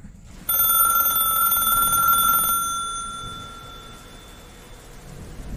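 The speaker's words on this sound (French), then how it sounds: "Violette a reçu un étrange coup de téléphone d'un appelant anonyme" An old-style telephone bell rings in one sustained metallic burst of about two seconds, then its tone slowly decays into a low, rumbling background.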